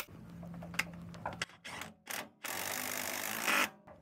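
An impact gun spins a lug nut down on a truck wheel in short bursts, ending with a longer, louder whirring run over a faint mechanical hum.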